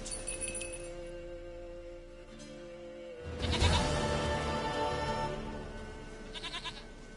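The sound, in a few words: goat bleating in video game The Witcher 3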